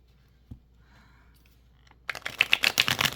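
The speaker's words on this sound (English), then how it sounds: "Let's do a quick shuffle." A new, slightly stiff cardstock tarot deck is shuffled, giving a quick burst of dense riffling card flutter after a near-silent start.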